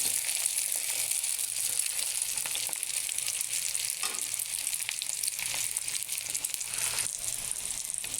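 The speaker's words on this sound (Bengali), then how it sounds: "ডিমটা ভাজির জন্য তেল গরম দিয়েছি, তেলটা গরম হয়ে গেছে, ডিমটা এখন দিয়ে দিচ্ছি।" An egg fries in hot oil with chopped onion flowers and green chili, a continuous dense sizzle held close and loud throughout, with faint stirring scrapes underneath.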